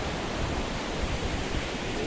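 Morning creek water rushes steadily nearby, a constant, even broadband wash with no breaks or voices.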